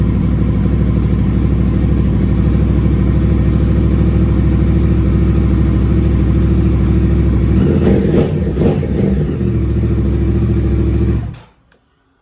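A car engine with a newly installed SBU ECU idles loud and close with a steady low rumble and a few brief irregular blips, then shuts off abruptly into silence.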